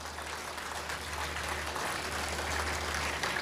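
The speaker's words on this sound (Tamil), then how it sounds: "கைத்தட்டல் அவ்வளவுதானே?" Steady applause from a large audience at a motivational speech fills the hall, a dense even clapping that holds at a constant level throughout, with a low hum underneath and no voices.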